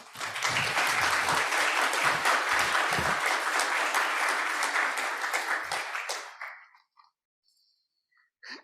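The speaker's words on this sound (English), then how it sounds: "Big round of applause for our students." A crowd at a Day of Remembrance event applauds students, with dense, sustained clapping that holds strong for several seconds before quickly fading to near silence.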